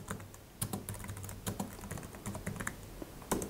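Close, quiet keyboard typing while entering Python code on a computer for a Raspberry Pi web server, irregular clusters of key clicks and occasional louder taps, with no voices.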